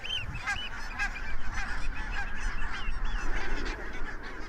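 A flock of barnacle geese honking continuously, many overlapping calls at moderate distance over a steady outdoor background in the Dutch wild.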